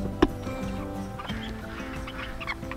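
Chickens cluck and murmur outdoors, a busy overlapping chorus of short clucks with one sharper squawk near the start, heard close and fairly loud.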